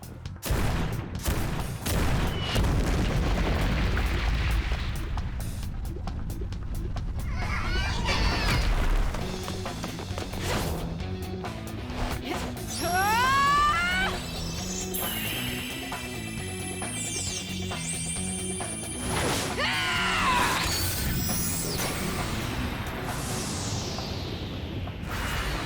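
Artillery cannon fire and shell impacts in a rebellion battle game: repeated booms, crashes and scattered gunshot volleys, some near and some distant, rumbling under a busy battle mix with whooshes and bright effects.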